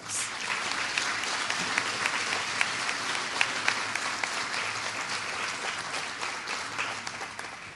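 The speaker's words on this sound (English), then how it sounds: "Let's give them another round of applause." Sustained applause fills the room at a chamber of commerce annual banquet, a dense, even wash of many hands clapping with a few sharper claps standing out, continuing without any talking.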